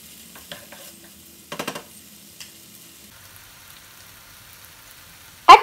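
Chicken pieces for a Turkish pide filling stirred in a pan, heard as a few soft scraping strokes with a brief cluster of quick stirs, mostly quiet between them and a sharper knock at the end.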